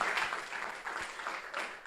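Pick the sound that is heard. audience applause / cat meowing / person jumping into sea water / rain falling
audience applause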